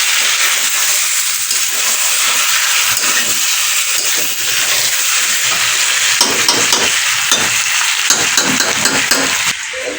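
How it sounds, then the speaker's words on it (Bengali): Meat and potato curry sizzles and fries in a pan while being stirred, giving a loud, continuous hiss with scraping clatters of the spoon against the pan throughout. "এই একটা কারি হচ্ছে মাংসের আলু দিয়ে"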